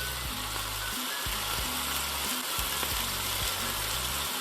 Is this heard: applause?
no